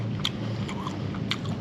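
Crunching bites into crispy shell-on shrimp dipped in a spicy vinegary sauce at a Hanoi street food stall, two sharp crisp bursts close to the mouth over a steady low street hum.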